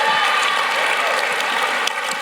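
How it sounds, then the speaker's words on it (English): Audience applause at a gaming convention stage event, a brief burst of dense clapping that holds steady throughout. "Can I get a round of applause, for Estia Kami's shirt?"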